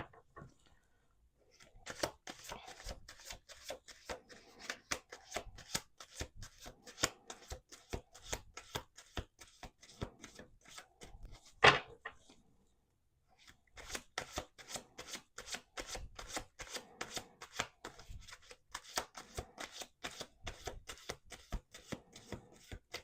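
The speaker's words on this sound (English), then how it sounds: "Let's do 2 more shuffles." A deck of tarot cards is shuffled again and again on a table. Dense, crisp riffling and flicking continues in long bursts, broken by a short pause near the middle, close and steady with no talking.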